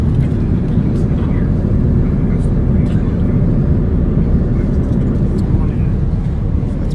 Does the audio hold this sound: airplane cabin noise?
yes